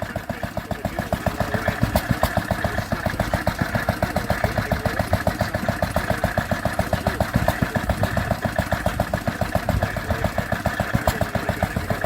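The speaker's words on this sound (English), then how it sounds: "They got this old International stationary engine running their saw." Old International stationary engine powering a saw cutting cedar shakes at a heritage gas and steam show, thumping in a steady, rapid, loud rhythm that holds evenly throughout with no talk.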